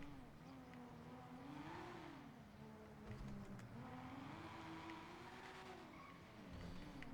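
Custom engine note of a Cypher Hatchback in GTA 5 drones steadily as the car drives, pitch rising and falling with throttle changes and hints of tyre squeal, continuous and alone.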